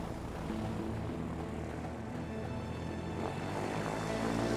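A propeller airplane taking off in the game A Way Out, its engine a continuous loud droning roar with a steady buzzing tone that builds slightly toward the end.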